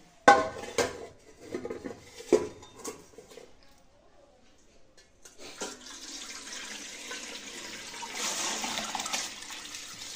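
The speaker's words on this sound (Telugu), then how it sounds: "ఈ బియ్యాన్ని ఇలా హోల్స్ ఉండే గిన్నె ఒకటి తీసుకొని ఇందులోకి వేసుకోవాలండి" Soaked rice is tipped into a perforated bowl, starting with a few clinks and knocks, then a steady, close hiss of wet grains and draining water.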